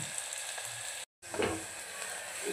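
Onion frying in a pan of oil for a mixed dal tadka, a steady close sizzle with faint stirring scrapes and a brief cut in the middle.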